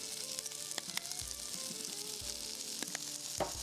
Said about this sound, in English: Come over to your butter and add in your garlic, as well as a bit more of your seasonings.